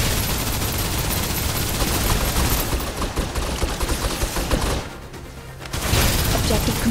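Dense, rapid gunfire fills a firefight in the shooter game Snowbreak: Containment Zone, a loud continuous crackle of automatic shots that drops out briefly before resuming, with a voice speaking at times.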